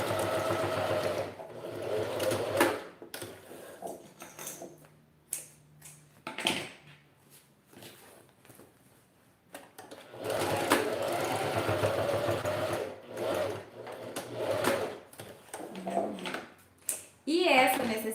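Sewing machine running in bursts while stitching the edge of a men's toiletry bag, a steady mechanical whir starting and stopping, with someone talking between and over the stitching.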